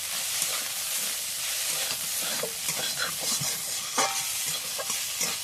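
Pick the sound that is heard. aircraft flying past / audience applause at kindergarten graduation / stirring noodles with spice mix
stirring noodles with spice mix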